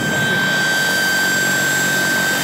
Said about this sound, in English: The helicopter is actually handling really well.